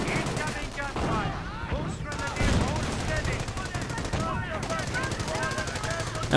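Continuous .30 caliber machine gun fire from a World War II strategy video game battle, dense rattling bursts mixed with other gunshots and battlefield noise, loud and sustained throughout.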